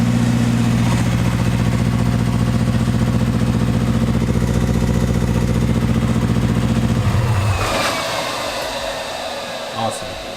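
A Factory Five 818 engine idles at about 1,700 RPM with a low, even hum for about seven seconds, then the tone drops away and fades as it winds down.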